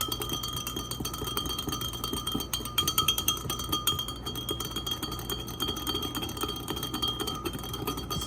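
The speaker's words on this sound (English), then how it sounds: "we're gonna stir this up real good because we want the honey to mix in real good with the vinegar and the water" A spoon stirring honey into a vinegar and water brine for pickled green beans, giving steady, rhythmic clinks and scrapes against the container over a constant background hum.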